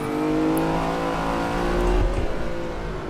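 Lamborghini Countach engine in Assetto Corsa at Barcelona, a loud, steady, throaty drone with a rough low rumble and a small burst of revs partway through, with no voices.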